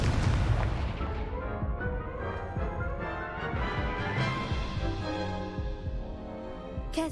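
Spell explosions from the Hogwarts Legacy game, a steady run of booming, rumbling blasts and impacts at close range, continuous throughout with no talk.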